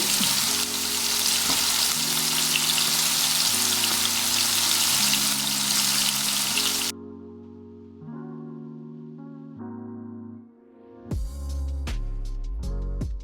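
Chicken adana kebab sizzles steadily in a pan over low heat for several seconds with music playing underneath; the frying then stops and the music continues alone.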